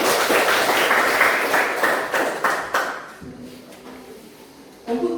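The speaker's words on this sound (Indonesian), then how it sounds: "Tepuk tangan dulu kecil." A classroom of students gives a short round of applause, dense clapping that fades after about three seconds, followed by a brief quiet voice and a bump.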